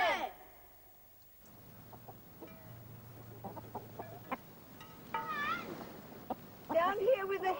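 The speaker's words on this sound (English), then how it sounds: "Down here with the hens, Barney." Hens cluck in short, scattered bursts around a farmyard, close by and moderately loud, with a longer clucking call toward the end; people talk at times over them.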